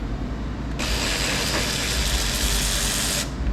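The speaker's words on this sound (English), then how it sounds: "You got this Makita cordless ratchet." A Makita cordless ratchet with a 4 amp hour battery runs steadily on a pump for about two and a half seconds, a loud, close, continuous mechanical whir with a faint clicking texture, set against constant low background noise.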